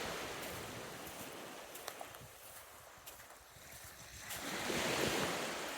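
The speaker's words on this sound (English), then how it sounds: "There's a stream right over here." A stream near a coastal campsite flows with broad, steady rushing water, and wind gusts buffet the microphone. The noise swells louder toward the end.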